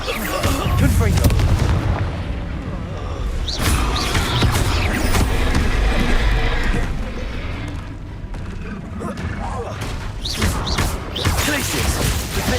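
Confringo fire spells in Hogwarts Legacy: repeated deep booming explosions and blasts over dense game combat noise, loud and continuous across the stretch, with voices talking underneath.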